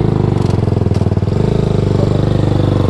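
A motorcycle engine runs close by on a solo road ride out of Amritsar, its exhaust pulsing in a steady, fast, loud throb that holds throughout without a break.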